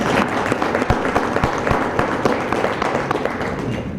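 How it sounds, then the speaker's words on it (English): Audience applause at a conference hall, a steady clatter of clapping with some sharper individual claps and thumps standing out, continuing evenly throughout. "I think they deserve a big round of applause."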